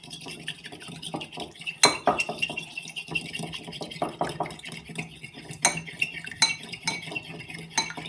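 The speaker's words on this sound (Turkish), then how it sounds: "şöyle bir yumurta şöyle güzel bir çırpalım" Eggs are whisked in a bowl for a sauced poğaça dough, a quick, irregular run of close clinks and taps as the utensil strikes the sides.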